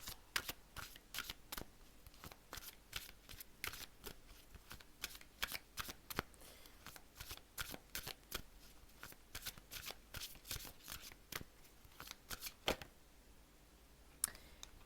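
Tarot cards being shuffled by hand in a quiet room, a steady run of crisp, close riffling snaps and flicks with no talking.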